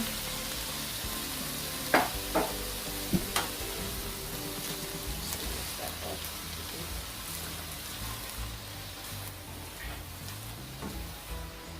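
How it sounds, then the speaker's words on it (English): Chopped cabbage sautéing in a pan for Jamaican steamed cabbage, a steady low sizzle throughout with a few sharper clicks and stirs near the start, fairly quiet and with no talk. "And I'm going to saute it a bit before adding the cover to it."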